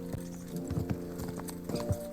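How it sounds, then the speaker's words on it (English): Horse hooves clip-clop in Kingdom Come: Deliverance II, a run of close, distinct hoofbeats in uneven pairs over a quiet background hum. "Easy, good horse."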